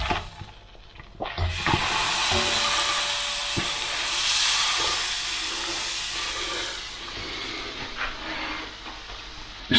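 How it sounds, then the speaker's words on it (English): Cheese toastie bread frying slowly in a pan over very low heat, a steady broad sizzle and hiss running almost continuously, close and moderately loud, with a few faint clicks at the start. "let it slowly fry that bottom bit of bread"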